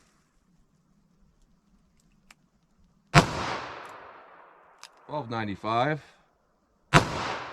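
Two sharp, loud .22 Magnum shots from a 3-inch barrel Ruger LCR revolver, several seconds apart, each ringing out with a decaying tail, with a short spoken phrase between them.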